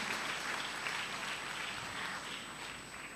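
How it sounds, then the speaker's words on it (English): Steady applause from a seminar audience at an international college seminar, a broad even patter of clapping held for a few seconds at moderate, slightly distant level with no speech over it. "I think we need one more big round of applause to such an amazing session"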